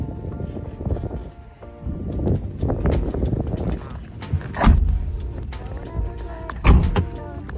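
Cabin noise inside a moving old Mercedes car, a steady road rumble with creaks and rattles and a couple of louder thumps, with people talking over it.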